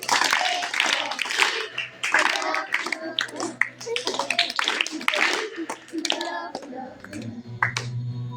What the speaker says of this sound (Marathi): आपण सर्वजण त्यांचं 3 टाळ्या वाजवून स्वागत करू